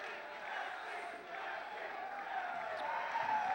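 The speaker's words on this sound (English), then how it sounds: "the crowd is screaming for him" A crowd at an amateur MMA fight night roars and cheers in a steady, distant wash of noise that swells slightly toward the end.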